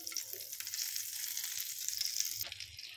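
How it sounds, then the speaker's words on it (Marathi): Butter sizzles in hot oil in a pan, a close, steady bright hiss with a few soft stirring scrapes and a brief clatter near the end, with no voices. "तेल गरम झालं की आपल्याला 2 चम्मच बटर टाकून घ्यायचं आहे।"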